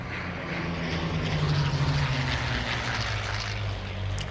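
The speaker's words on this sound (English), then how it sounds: "we should have some planes flying by overhead" Propeller aircraft from the Return to Castle Wolfenstein forest compound mission drone past overhead, a steady low engine rumble that swells slightly mid-pass and holds on without voices.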